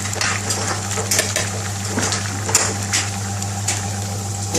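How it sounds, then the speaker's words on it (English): Pilau rice being stirred gently in a cooking pot in a restaurant kitchen, with soft scraping and clinking of a utensil against the pot over a steady low hum, fairly close and continuous. "we need to stir the rice up a bit so it doesn't stick"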